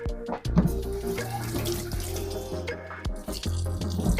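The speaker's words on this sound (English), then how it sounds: "I'm going to just rinse off my hands really quick." Hands rinsed under a running kitchen or utility water tap, a continuous close splash of flowing water with shifting tones as the hands move through the stream, no voices.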